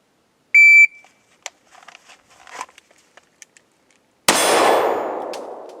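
An FN Five-seven pistol fires at steel targets: a shrill shot-timer beep opens, faint scattered ticks follow, then one loud metallic clang rings out and decays slowly.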